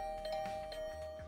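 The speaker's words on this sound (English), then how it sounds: "Sudden barrage of doorbell rings took me by surprise" Doorbell in The Hundred Line video game ringing in a quick, steady electronic tone, fairly faint and very brief.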